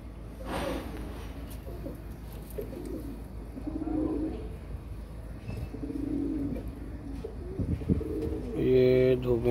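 Pairs of Lakha and green pigeons coo softly in a run of low, repeated calls that rise and fall, with a brief voice near the end.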